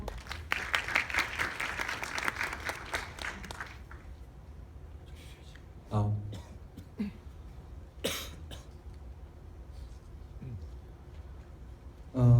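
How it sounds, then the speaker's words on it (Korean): An audience at a Good Data Corporation presentation bursts into dense applause to welcome the presenter. The clapping lasts about four seconds and then dies away into a quiet room with scattered coughs and small shuffling noises. "박수로 맞이해 주시기 바랍니다"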